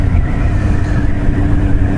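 A loud motorbike engine with its exhaust baffles removed drones steadily, a low, rough, continuous roar close by, with no voices.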